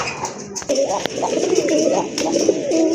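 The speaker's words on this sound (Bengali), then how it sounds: "আরেক জোড়া কবুতর, রাজগোল্লা কবুতর" Red Rajgolla fancy pigeons coo in repeated rolling phrases close by, with faint clicks and rustling around them and someone talking intermittently.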